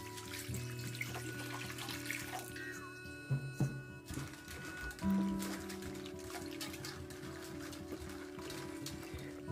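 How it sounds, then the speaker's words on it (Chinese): Radish chunks and chicken gizzard lining being rinsed in a basin, with steady running water from a tap, trickling and splashing throughout, and a few louder sloshes and clunks as the pieces are stirred in the water. "切好的萝卜块，我们放入到盆子中，给它清洗一下。"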